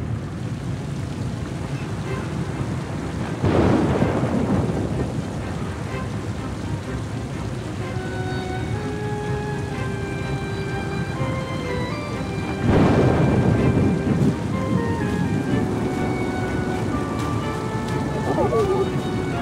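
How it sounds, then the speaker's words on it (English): A thunderstorm in the Oceanhorn 2 video game intro: steady heavy rain hiss with two loud rumbling thunder claps, scored music tones drifting through the storm. "It began on a dark and stormy night"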